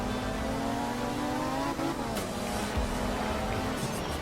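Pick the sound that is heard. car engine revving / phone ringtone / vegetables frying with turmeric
car engine revving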